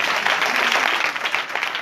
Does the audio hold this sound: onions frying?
no